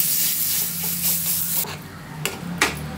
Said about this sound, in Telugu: మనం రెడీ పెట్టుకున్న పచ్చడి అండి, వంకాయ పచ్చడిని మనం తాలింపులో ఇలా వేసేసుకోవాలి.